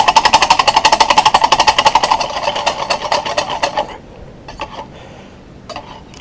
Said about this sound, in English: Just going to keep on whisking now, and that should actually do it.